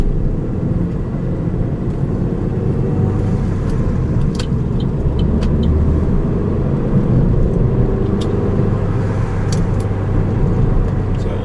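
Manual transmission car cruising on a road in fifth gear, a steady low engine drone and road rumble heard from inside the cabin, constant and fairly loud with no talk.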